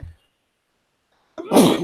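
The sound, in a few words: sneeze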